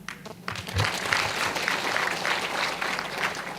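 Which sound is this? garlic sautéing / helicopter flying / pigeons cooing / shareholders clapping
shareholders clapping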